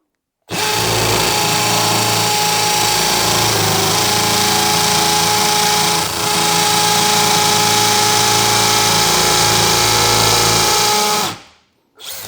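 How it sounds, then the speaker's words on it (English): A Milwaukee hammer drill runs in its mode 2 hammer setting, boring steadily into material with a loud, close, continuous rattling whine for about eleven seconds before stopping abruptly. "starting off with the Milwaukee again, mode 2 hammer setting"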